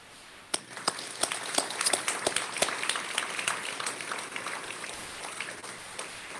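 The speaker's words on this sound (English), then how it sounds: "let's give them all a round of applause" An audience at an arts awards dinner applauds the nominees, a crowd of hands clapping in a dense patter that starts suddenly and holds steady, moderately distant and fading slightly near the end.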